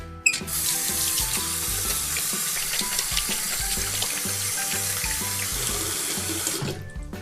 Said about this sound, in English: Rub your hands with soap for at least 20 seconds to properly wash them.